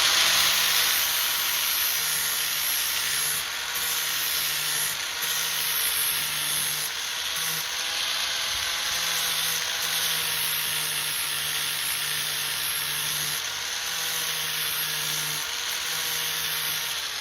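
A power tool grinds steadily at the metal bevel of a garden tool, keeping up a continuous high hiss and whine with slight pitch wavers for the whole stretch, without speech.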